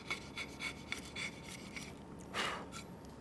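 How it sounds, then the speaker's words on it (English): Hand chisels paring away soft poplar wood, heard as a quiet series of short scraping strokes in a steady rhythm, ending with a slightly louder cut; no talking. "use some hand chisels and just chisel away some wood"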